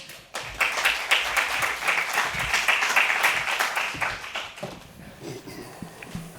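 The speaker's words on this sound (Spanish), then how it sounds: "Un aplauso, por favor." Audience applause at a sustainability conference on the circular economy in the automotive sector, a dense burst of clapping that swells, holds for several seconds, then thins into scattered claps.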